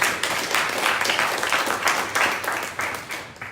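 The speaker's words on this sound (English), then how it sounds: "Round of applause for the organizers" A room of audience members at a 1 Million Cups Daytona Beach gathering claps for the event organizers, steady dense applause close by that swells and fades in uneven waves.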